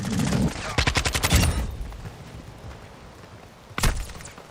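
Video game gunfire in a first-person shooter: a fast burst of automatic shots near the start, then a quieter stretch and one more sharp blast near the end, with radio-style voices talking over it.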